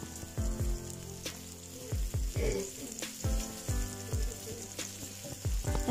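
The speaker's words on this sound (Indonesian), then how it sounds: "Kita tumis bawang bombaynya sampai layu teman-teman" Onions sauté in a hot pan with a steady sizzle, broken by repeated clacks of a spatula stirring against the metal. A low hum runs underneath throughout.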